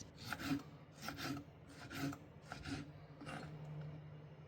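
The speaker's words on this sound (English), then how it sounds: "Cut them into strips." A knife slices sweet pickled red peppers into strips on a cutting board: about six soft, evenly paced rasping strokes, close and fairly quiet, with no talk.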